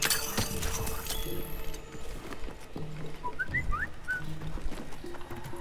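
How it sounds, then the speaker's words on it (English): A short melodic notification chime from Monster Hunter Wilds, a few quick rising tones heard briefly mid-clip over busy game ambience. "I just love that stupid little notification sound."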